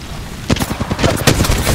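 Short volleys of in-game gunfire from an Apex Legends firefight: sharp, loud cracks in quick irregular succession over roughly two seconds.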